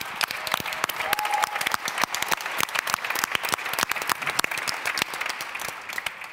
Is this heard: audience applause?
yes